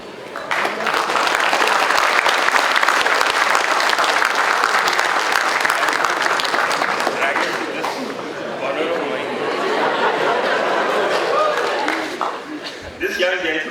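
Lecture audience giving a big, sustained round of applause for a team, dense clapping filling the hall for many seconds and thinning toward the end, with crowd murmur mixed in.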